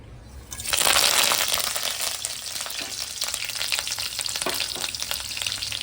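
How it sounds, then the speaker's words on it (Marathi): Garlic and curry leaves dropped into hot oil as a tempering for fish curry, bursting into loud, close crackling sizzle that starts abruptly and continues steadily with occasional pops. "आता फोडणी आहे नाही हा लसूण कढीपत्ता"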